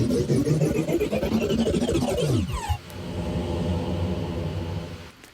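An evolving, powering-up transition effect built from a sound-pack sample: a dense, loud rumbling texture with rising sweeping tones that dips midway, then settles into a steady droning hum before cutting off.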